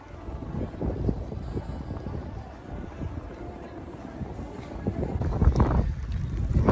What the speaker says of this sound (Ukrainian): вітер такий, і сніг досі йде